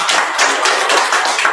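A church congregation claps hands together during a Sunday worship service, a dense, steady patter of many hands close by for a short burst, with no talking.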